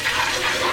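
A brief burst of rushing, splashing water while washing a 1947 Chevrolet two-door sedan, loud and close, with no voices.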